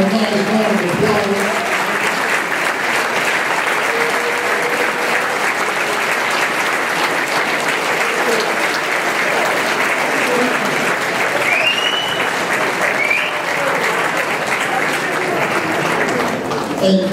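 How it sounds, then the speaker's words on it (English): A standing audience at a Hall of Fame ceremony gives a long round of applause, dense, steady clapping from many hands that fills the hall, with faint cheers and voices mixed in. "can we all stand up for this gentleman right here and give him a nice round of applause?"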